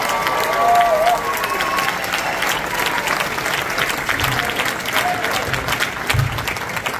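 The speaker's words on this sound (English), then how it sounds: "How about a round of applause for a dancing can of corn?" Audience at a New England barn dance show breaks into loud, sustained applause and some cheering, a dense crowd of clapping hands filling the room for several seconds with faint voices mixed in.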